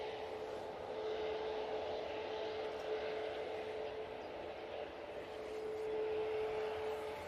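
A plane arriving at Manchester Airport makes a steady, distant jet roar with a faint sustained whine that holds at an even moderate level throughout.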